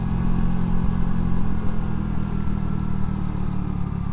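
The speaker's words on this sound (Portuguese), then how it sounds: "reduzindo aqui, ó, pra terceira, segunda, pra garantir aqui a frenagem do motor." A motorcycle engine braking while downshifting through third and second gear on a steep hill descent, a steady loud low rumble and drone held throughout without a break.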